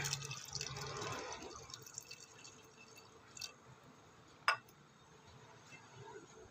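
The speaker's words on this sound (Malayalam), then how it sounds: "കുറച്ച് വെള്ളം കൂടെ ഒഴിച്ചു കൊടുക്കുക" Water poured into a pot of taro and lentil curry with tamarind: a faint, soft rushing splash for the first second or so, then a low wet background with a single small drip-like knock.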